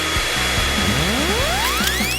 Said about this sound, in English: A hairdryer.